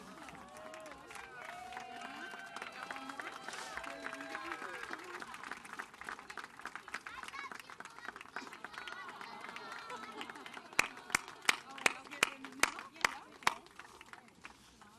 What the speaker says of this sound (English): Got quite a cheering section over there